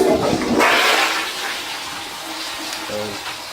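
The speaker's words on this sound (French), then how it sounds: "Je vais tirer la chasse." A hotel bathroom toilet, an American Standard model at the DoubleTree Bahia Mar in Fort Lauderdale, flushes loudly up close with a steady whooshing rush of water that slowly eases off.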